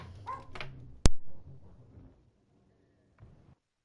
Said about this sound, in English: I hate that the dog will bark. What are you barking about?